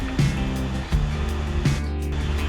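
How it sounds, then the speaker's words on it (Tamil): A mixer grinder runs steadily, blending coconut, ginger garlic paste, cashews and fennel seeds into a fine paste. Its loud, continuous motor whine and churning hold throughout, with slight surges and no talking. "இது எல்லாத்தையுமே ஃபைனாக அரைச்சி எடுத்துக்கலாம்"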